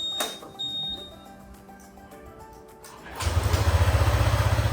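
A Honda ADV150 scooter, freshly refilled with ADNOC engine oil, starts from a single press after some faint clicks and clatter, then settles into a close, steady idle with an even, pulsing throb.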